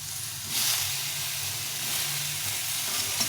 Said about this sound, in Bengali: এখন এটা একটা টমেটো পাতলা পাতলা করে কেটে নিয়েছি টমেটোটা একটু ভেজে নিই